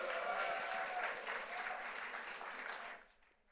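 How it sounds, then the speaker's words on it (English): An audience gives a steady round of clapping, dense and fairly distant, which holds for about three seconds before quickly dying away. "so big applause to her"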